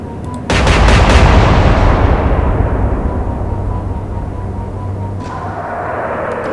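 Warship guns fire in the Atlantic Fleet naval video game, a sudden loud volley after a brief quiet, with several quick booms rolling into a long decaying rumble and a second fainter report near the end.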